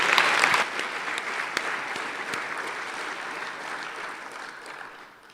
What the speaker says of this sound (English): So if we can give them a shout out and a round of applause